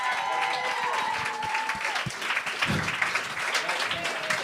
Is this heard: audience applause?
yes